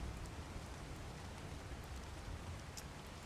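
Steady, faint rainfall in the survival game ARK: Survival Evolved, an even wash of drops on surfaces with no breaks and no talking.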